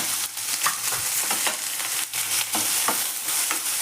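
Onions sizzle in a pan for radish palya, a dense continuous fry close by, broken by a spatula scraping and stirring every half second or so.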